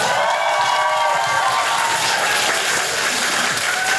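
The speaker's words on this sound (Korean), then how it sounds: "다시 한번 큰 박수 부탁드리겠습니다" A large crowd at a book talk event for Han Dong-hoon claps and cheers in a dense, loud, unbroken roar of applause that holds steady throughout.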